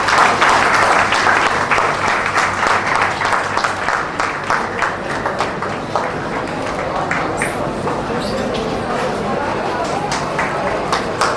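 Loud, sustained applause from an audience at an Independence Day function at a business school, dense clapping that slowly eases off while voices murmur faintly underneath.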